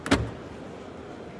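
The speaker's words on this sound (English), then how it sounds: "Classical Škoda opening and closing sound." A Škoda Octavia liftback tailgate shuts with a single close, solid thump near the start, followed by quiet background.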